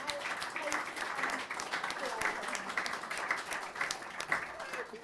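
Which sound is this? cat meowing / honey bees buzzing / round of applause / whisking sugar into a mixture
round of applause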